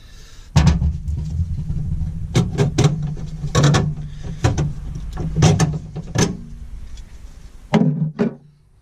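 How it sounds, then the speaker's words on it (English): Close, irregular metallic ratcheting and clicking as a socket wrench works on 10mm bolts holding a panel over the hybrid battery of a 2014 Lexus IS300h, in short bursts with brief pauses. "We now need to remove that panel there, those 3 10mm bolts"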